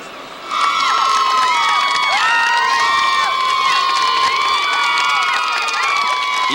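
A crowd at a 2002 high school state championship football game between East Kentwood and DCC cheers steadily, with loud whistles and shouts sustained after a sudden swell at the start.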